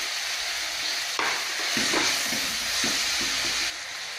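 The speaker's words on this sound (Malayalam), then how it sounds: "എന്നിട്ട് നന്നായിട്ടൊന്ന് വഴറ്റി കൊടുക്കാം." Sliced onions with curry leaves and green chillies sauté in a pan, giving a loud continuous sizzle with soft scraping stirs layered on top, close to the listener.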